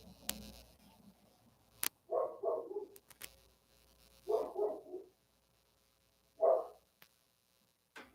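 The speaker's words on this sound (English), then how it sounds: "The dog's out there being loud." A dog barks outside a home garage in three separate bursts of rapid barks, moderately loud and somewhat distant, with quiet gaps between them and no talking.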